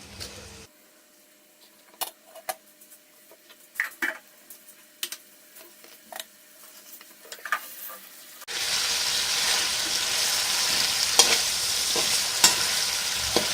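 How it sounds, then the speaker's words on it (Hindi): Chicken frying in a pan for a cheesy chicken bread pocket recipe, with sparse scrapes and clinks of stirring at first, then a loud continuous sizzle as the pieces cook. "चिकन हमारी पक रही है।"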